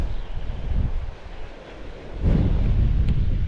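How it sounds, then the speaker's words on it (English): Strong wind buffeting the microphone on a beach during drone fishing, a loud continuous low roar with gusts that dip and then surge back harder, no talking. "Man, it's windy."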